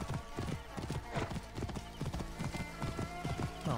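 A horse galloping in the video game Assassin's Creed Origins, rapid rhythmic clip-clop hoofbeats repeating steadily throughout, close and fairly loud, with a game soundtrack or ambience underneath.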